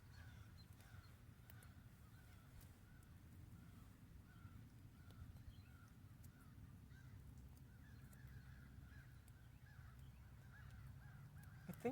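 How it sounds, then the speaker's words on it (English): Crows cawing on a forest farm, repeated harsh calls scattered through the whole stretch at moderate distance over a steady low outdoor rumble, with no talk. "Let's listen to the crows for a minute."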